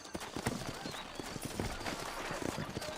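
Horse hooves clip-clop in a steady trotting rhythm amid dense outdoor ambience in the video game Red Dead Redemption, close and continuous with no pause.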